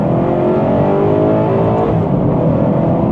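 An Alfa Romeo 8C's V8 engine revs hard and continuously, a loud, dense, throaty roar with a rich harmonic tone that shifts slightly in pitch partway through, heard from up close.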